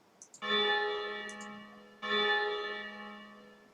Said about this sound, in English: The bell rings, signaling that the bonfire is over.